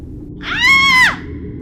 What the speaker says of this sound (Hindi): तभी किसी की चीखने की आवाज़ मेरे कानों में गूंजी